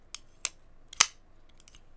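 A weighty folding knife blade drops open on very smooth bearings, giving sharp, crisp metallic clicks and snaps, with one louder central snap among several lighter ticks, close and with no talking.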